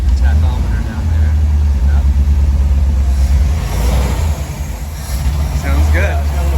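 A classic 1957 Ford Thunderbird engine runs with a steady low rumble and slight revving swells, close and loud throughout, while people talk over it.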